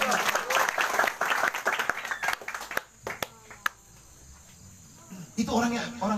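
Applause from a revival-meeting congregation at a church service in Pematang Raya, a dense burst of clapping that thins into scattered claps and dies away before a voice resumes speaking.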